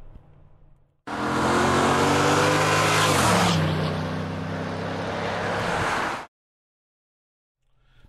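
A 2012 Ford F150 Raptor's engine roars loudly at close range for about five seconds, revving up, then shifting to a lower steady drone before cutting off abruptly.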